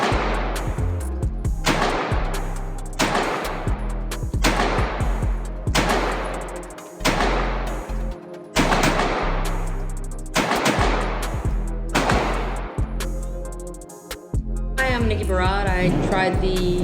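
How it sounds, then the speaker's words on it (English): Wilson Combat EDC X9 pistol fired at a range, a string of about a dozen sharp, loud shots, mostly evenly spaced with brief pauses, followed by a few quicker shots near the end. "I shot the Wilson Combat today"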